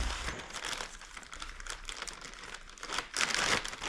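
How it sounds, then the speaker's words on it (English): A plastic bag crinkles and rustles as a restored 1959 MGA tachometer is slipped inside, close and quiet, with irregular crackling bursts that grow louder near the end. "into the plastic bag it goes"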